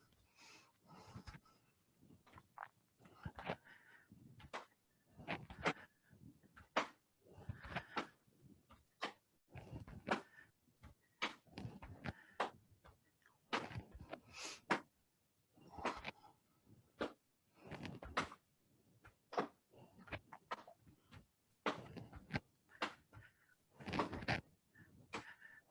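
Loose fists knock on the lower belly and lower back during a qigong flow, making a long series of soft, dull thumps at a steady, repeating pace, close by and with no talking.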